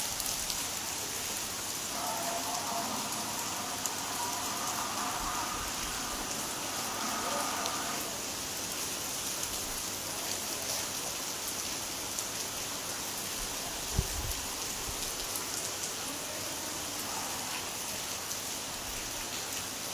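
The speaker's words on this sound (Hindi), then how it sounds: "बारिश बहुत ही बहुत ही सुंदर बारिश हो रही है।" Heavy rain falling steadily over a village during days of flooding, a continuous even hiss of drops on surfaces with no breaks, close and enveloping throughout.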